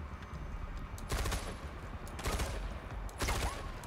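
Automatic gunfire in the video game Far Cry 4 comes in three rapid bursts of shots, loud and separated by short gaps over low background noise.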